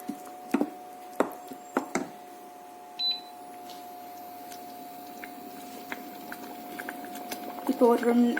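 Steady low bubbling of varagu (kodo millet) rice pongal boiling in a pot, with occasional sharp clinks and taps, and a brief rumble of activity near the end.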